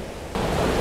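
Sea water washing around someone standing at Boscombe pier, a sudden hissing surge that rises partway through and stays loud and close, with no voices.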